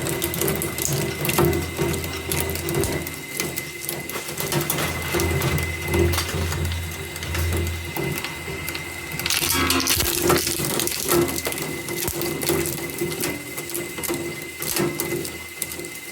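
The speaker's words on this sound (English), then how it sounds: "it does have a tendency to crunch in the shredder rather than just nicely sort of shred" Polypropylene plastic from mini golf parts crunches and cracks inside a shredder during recycling, a steady mechanical grinding with irregular snapping bursts that swell louder near the middle.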